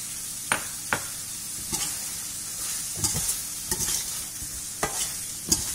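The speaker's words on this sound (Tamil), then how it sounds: "அந்த மசாலாவோட பச்சை வாசனை போற வரைக்கும் நல்லா கலந்துக்குங்க." Chettinad chicken curry masala being stirred in a frying pan, a sizzling bed broken by a run of sharp spoon scrapes and clacks at an irregular pace, close and with no talking.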